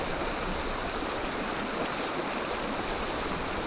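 Swift water of the Middle Fork of the Holston River rushes past in a dense, steady, loud roar that stays constant, with no voices.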